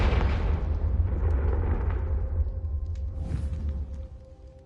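A Confringo spell explosion in the video game Hogwarts Legacy: a loud, booming blast that rumbles and slowly fades over several seconds with a faint sparkling tail.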